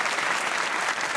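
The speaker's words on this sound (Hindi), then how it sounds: "ताली होनी चाहिए लाइबा के लिए।" Studio audience applause on a comedy talk show for the actress Laiba Khan, a short burst of dense clapping from many people, loud and even.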